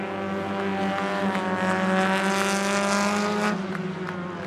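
Street stock race cars compete at Coos Bay Speedway: a loud, close, high-revving engine roar with strong harmonic whine that rises and falls slightly as cars pass, with no talk over it.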